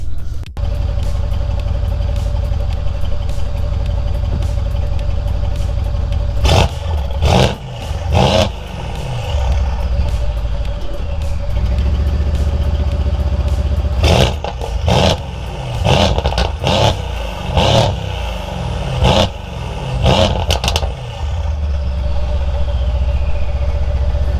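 A tuned Mercedes C63 S engine idles with a deep burble, then is revved hard in Sport Plus mode in a series of sharp, loud bursts that fall back to idle between blips.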